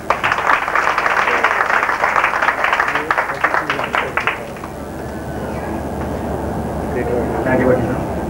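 Audience applause at a Hindi stage event, dense clapping over the first four seconds, then fading into a murmuring crowd and background noise.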